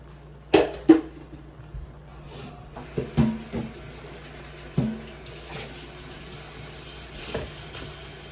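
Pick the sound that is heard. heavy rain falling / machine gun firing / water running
water running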